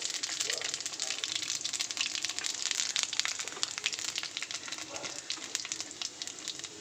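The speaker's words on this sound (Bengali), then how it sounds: "তেলটা তেতে গেছে। আমি দিয়ে দেবো কড়াইয়ের মধ্যে 5 ফোড়ন।" Panch phoron spices sizzling in hot oil in a wok: a close, continuous crackling hiss with dense popping spatters throughout, steady and loud with no talking.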